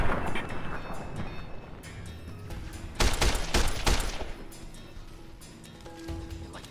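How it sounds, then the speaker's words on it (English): Gunfire in Fallout: New Vegas on PS3: a dense burst of rapid shots around the middle, loud and close over steady ambient rumble and wind-like noise, with quieter scattered shots before and after. "Dude, taking bullets straight to the face."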